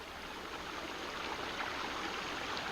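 A low creek flows steadily at a swimming hole, a constant close wash of water with no voices.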